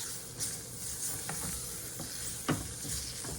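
Pepper steak gravy with peppers and onions cooking in a pan, a soft continuous sizzle and bubbling hiss with a few faint stirring scrapes, fairly quiet and steady.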